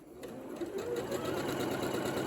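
A Janome Memory Craft 8200 QCP sewing machine stitching a quilt with its guide bar, starting up and settling into a steady, close, rapid mechanical whir.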